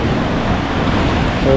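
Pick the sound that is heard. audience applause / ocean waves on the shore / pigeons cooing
ocean waves on the shore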